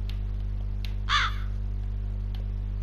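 A single harsh crow caw rises out of a steady low electronic hum in the horror game True Fear: Forsaken Souls, fairly close and alone, with faint ticks around it.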